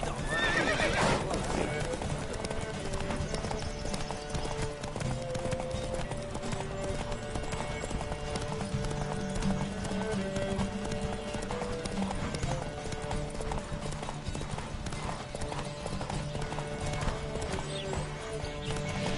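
Rapid galloping hoofbeats with horse whinnies run over a loud music score in The Witcher 3 video game, steady and driving throughout.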